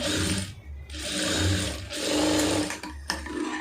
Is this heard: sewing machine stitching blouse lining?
yes